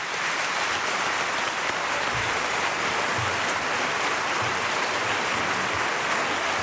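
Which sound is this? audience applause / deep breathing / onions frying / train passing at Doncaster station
audience applause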